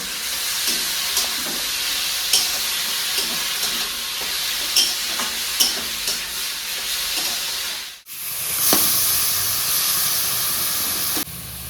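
Grated radish frying in a pan with salt for a Bengali mooli ghonto gives a steady, loud hiss with scattered light scraping clicks, a brief dip near the end, then more sizzling.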